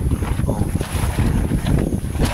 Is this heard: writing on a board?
no